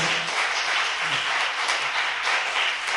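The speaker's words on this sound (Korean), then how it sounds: "박수!" Audience applause during a Korean political talk show taping: dense, steady clapping from a studio crowd, moderately loud and continuous for about three seconds with no talk over it.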